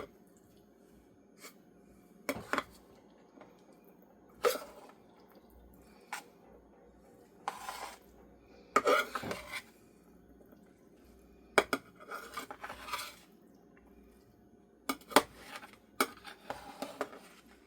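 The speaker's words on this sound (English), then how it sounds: "Then we're going to mix it all together again." Intermittent scraping and clinking of a utensil against a pan while mixing cornbread stuffing, in short irregular bursts separated by quiet pauses.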